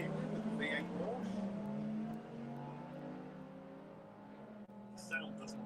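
A VW Beetle fitted with a V8 Porsche engine runs at a drag race, a sustained engine roar that holds steady and then eases off as a quieter tone, with faint crowd noise and no clear talk.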